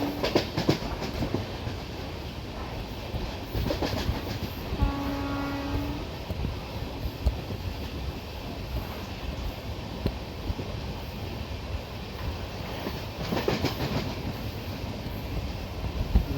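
The Mumbai–Madgaon Jan Shatabdi Express runs through the Konkan hills and tunnels between Chiplun and Ratnagiri, with a steady loud rumble from on board, repeated clickety-clack wheel beats, and a brief rising whine in the middle.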